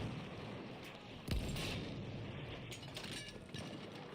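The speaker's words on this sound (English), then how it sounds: "The artillery truck's going to target me till dead now." One heavy artillery shell blast in Battlefield 1, a single booming hit about a third of the way in over continuous distant battlefield rumble and scattered gunfire.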